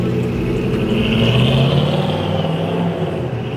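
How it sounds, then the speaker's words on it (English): A loud race car engine revving from inside the vehicle, a steady, heavy low-pitched drone with a rising whine over several seconds, close and continuous with no talk. "It's a race car, too."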